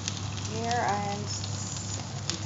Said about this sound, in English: shallow fry the fish